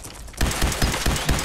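Gunfire in the video game Fallout 4 bursts out after a quiet moment, a rapid series of sharp, loud shots in quick rhythm.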